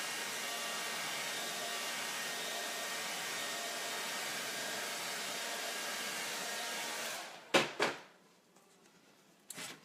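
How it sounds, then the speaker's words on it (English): A hair dryer blows steadily on a painted wooden door hanger during a faux barnwood finish, a loud continuous whirring roar for about seven seconds before switching off with a couple of clunks. "Gotta love the hairdryer."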